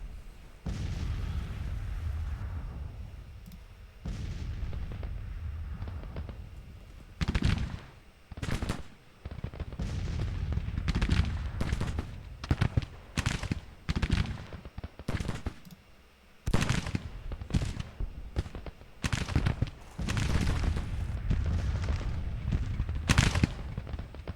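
Rapid rifle volleys and booming artillery from a Civil War battle in Grand Tactician: The Civil War, crackling in dense irregular bursts with sharp pops and brief lulls for about twenty-four seconds, with no one talking.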